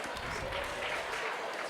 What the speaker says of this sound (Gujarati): તાળીઓના ગડગડાટથી આ ભૂલકાઓને વધાવી લઈશું